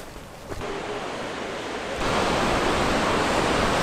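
Small ocean waves break at the surf spot in Hossegor, heard as a loud, broad continuous roar of surf that swells and grows even louder partway through, with wind over the microphone.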